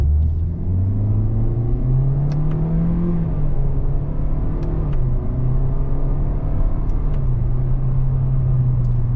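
A 2025 Toyota Corolla XSE hatchback accelerating under paddle shifts, its engine drone climbing in pitch, dropping at each gear change and climbing again, a steady close interior rumble with no talk.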